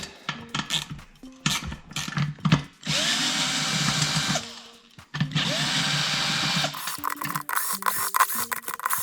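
A power tool, likely an impact driver, breaks loose the bolts on a double beadlock wheel of a mk4 Supra fitted with 33-inch slicks, buzzing in several long bursts with short gaps, metallic clicks and scrapes between runs, close and with no talking.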